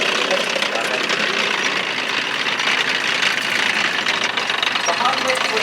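A WWII Jeep engine idles at a tank festival battle display, a steady mid-pitched rumble heard through loud, continuous outdoor noise with no breaks.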